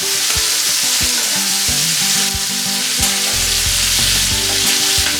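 Venison steaks sizzle and spit loudly in a hot frying pan, a steady dense crackle with occasional sharper pops and clinks of utensils, heard up close with no talking.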